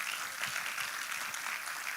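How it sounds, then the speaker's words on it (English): Steady crowd clapping at a live traders bootcamp evening session, continuous and fairly loud throughout, with no voices over it. "Please clap for my family."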